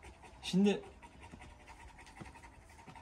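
An Alabai dog pants heavily after a fight, quick ragged breaths close by and fairly quiet, with someone briefly speaking over it.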